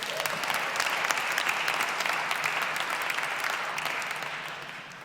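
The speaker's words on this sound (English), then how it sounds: "Somebody clap for that." A church congregation at Middle Collegiate in New York applauds together, a steady wash of many hands clapping at full strength for about five seconds before starting to taper off at the end.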